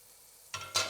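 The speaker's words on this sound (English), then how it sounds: "Just get all of that butter melted." Butter melting in a pan over medium-low heat, a quiet hiss that breaks into two short bursts of sizzling, close and alone.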